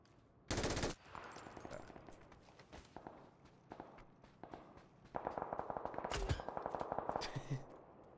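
Bursts of automatic gunfire in the battle-royale video game PUBG, loud and close, with a sharp burst early on and a longer rapid volley near the end, mixed with game footsteps and no talk.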